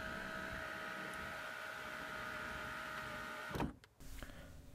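A motorized sunroof on a 2004 Toyota Corolla S tilts and slides, a steady electric whir running for several seconds in the cabin before ending in a soft thump and brief stop.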